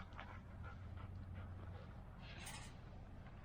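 Old hound dogs pant softly and steadily close by in a quiet space, with faint breathy sounds and no talking.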